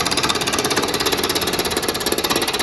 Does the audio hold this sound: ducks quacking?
no